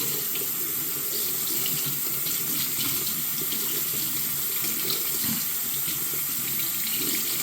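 A kitchen tap runs steadily and loudly while a reusable coffee filter is rinsed out, with a constant splashing rush of water and no talk.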